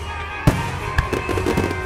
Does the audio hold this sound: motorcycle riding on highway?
no